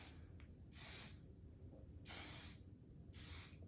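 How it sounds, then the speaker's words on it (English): A can of shine hair spray hisses in three separate bursts, each lasting about half a second, close and loud, with quiet gaps between them. "this is just a little bit of a shine spray"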